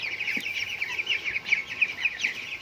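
Chickens on a farm cluck in a repeated, bubbly chatter, several birds close by and fairly loud over faint background noise.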